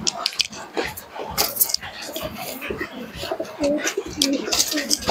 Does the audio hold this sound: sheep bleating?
no